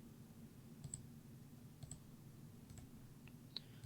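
A handful of faint, sharp mouse clicks on a Windows PC, spaced about a second apart over a steady low room hum.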